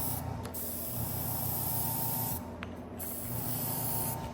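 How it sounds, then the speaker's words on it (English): A mini air compressor bolted to a workbench drives an airbrush spraying paint for realistic flames, giving a steady close hiss of air over a low motor hum, briefly pausing twice between bursts. "I just have a little mini air compressor bolted to my bench down here."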